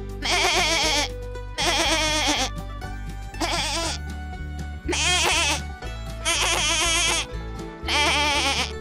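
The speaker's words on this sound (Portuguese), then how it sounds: "As cabras e os cabritos reconhecem os balidos um do outro logo após o parto." Goats and young kids bleating in turn, five or six loud, wavering calls close by with short pauses between them, over a steady low musical drone.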